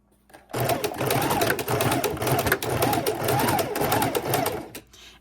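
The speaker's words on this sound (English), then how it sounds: "I'm going to double stitch and then single stitch all the way around" Sewing machine running steadily to stitch a fabric wallet keychain purse, a close, loud, continuous mechanical whir with a rhythmic needle chatter that starts abruptly and stops about five seconds later.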